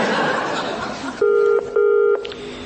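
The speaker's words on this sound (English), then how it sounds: "One quick phone call will clear this up" A telephone is dialed for a call, two loud steady touch-tone beeps following a stretch of muffled laughter and chatter, with a faint click afterward.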